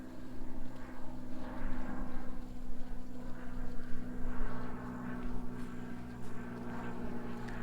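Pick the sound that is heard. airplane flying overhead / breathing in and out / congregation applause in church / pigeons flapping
airplane flying overhead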